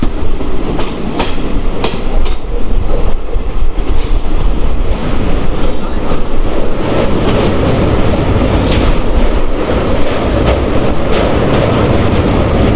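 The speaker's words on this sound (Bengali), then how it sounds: "আসামের ব্রহ্মপুত্র নদ আমরা ক্রস করছি শিফুন এক্সপ্রেসে।" The Siphung Express rumbles across the Brahmaputra river in Assam, heard loud from inside the carriage. The wheels give a steady, heavy roar with rhythmic clickety-clack over the rails and no voices.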